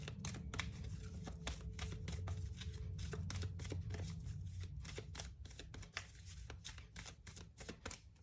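Tarot cards are laid out on a table in a rapid, dense run of crisp slaps and shuffles, close and fairly loud, easing into sparser clicks toward the end with no talk over them.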